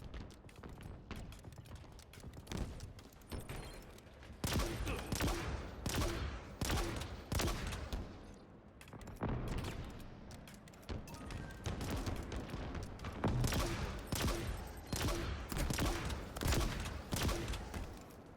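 Rapid bursts of automatic and single gunshots from a Halo multiplayer match in Escalation mode, loud and dense, with repeated volleys and booming impacts continuing almost without pause.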